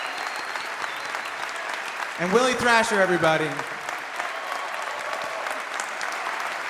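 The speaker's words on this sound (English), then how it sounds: "Another round of applause." Warm audience applause for performers at a Juno songwriters' circle runs steadily throughout, while a voice briefly announces over it midway.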